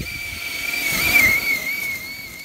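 A Traxxas Summit 1/10 scale RC truck converted to a brushless motor, with new Hot Racing differentials, drives past with a loud, steady high-pitched electric whine that swells to a peak and then eases off, over low rumbling tire and drivetrain noise.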